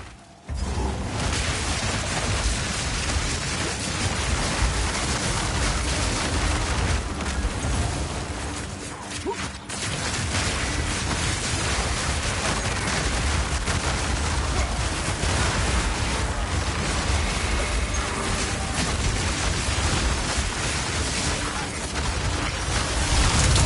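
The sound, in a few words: explosions in the video game Path of Exile 2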